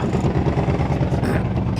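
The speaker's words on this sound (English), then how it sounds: "he said the exhaust is knackered" A cheap used car's engine idles loudly and steadily with a rough, rumbling tone from a knackered exhaust, close up, with voices briefly over it.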